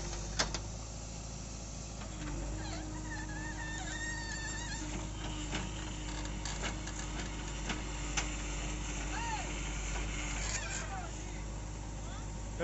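A JCB backhoe loader's engine runs steadily while loading soil into a tractor trolley, a low continuous rumble with faint squeaks and clanks over it, fairly quiet and distant throughout.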